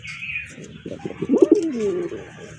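A pigeon for sale at a bird market gives a clear, close, throaty coo lasting a couple of seconds, with faint ambient chatter around it.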